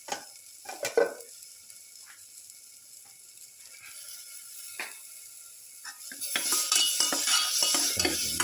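A ground cashew and chili mixture is stirred in a pan, with scattered spoon scrapes and clinks on the metal, then a louder building sizzle toward the end.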